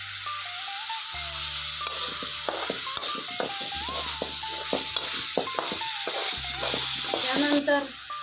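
Whole spice masala sautéing in a pan for a village-style paneer curry, a steady close sizzle with repeated scraping and stirring strokes and a few sharp clinks near the end.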